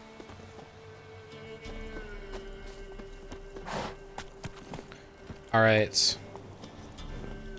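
Hoofbeats from a horse in The Witcher 3 play near and moderately loud under light game music and a brief spoken word, with a short whinny toward the end.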